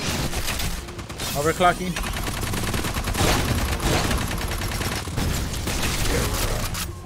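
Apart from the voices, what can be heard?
turret gunfire in the video game Aliens: Fireteam Elite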